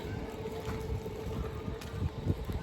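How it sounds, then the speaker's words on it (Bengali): Steady wind blows in a continuous low rumble and hiss, fairly quiet and without speech. "হাওয়া তো সব উড়ে যাচ্ছে"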